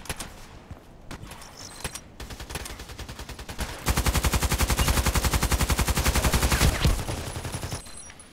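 Sustained burst of rapid automatic gunfire in a sniper video game, loud and dense for several seconds, preceded by scattered shots and quieter game sounds.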